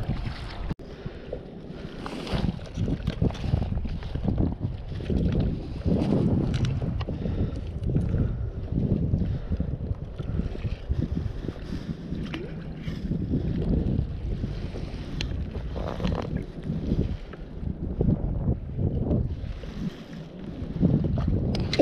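Strong wind in a harbour during kayak fishing for gray sea bream in an artificial port, a loud continuous rumbling buffet against the microphone with gusts and faint water movement, no talk.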